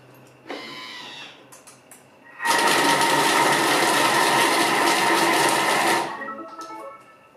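A Thermomix kitchen machine blending tomatoes, garlic and butter at speed 5, a loud steady whirring roar that starts abruptly, holds for about three and a half seconds and then winds down, with a few clicks before and after.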